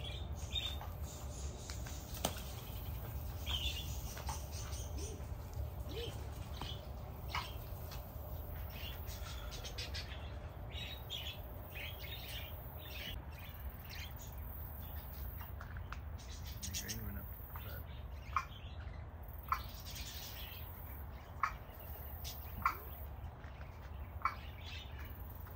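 Small pigeon-like birds by a nest at a house give scattered soft chirps and calls over a steady hum of background noise, fairly faint and spread through the stretch, with no clear talk over them.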